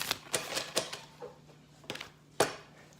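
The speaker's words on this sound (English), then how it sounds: "Got a little more shuffle in there." Tarot cards are shuffled by hand in a quiet room, giving a series of soft, crisp riffles and snaps in uneven bursts at close range.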